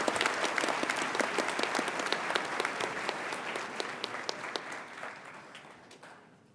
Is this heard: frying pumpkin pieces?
no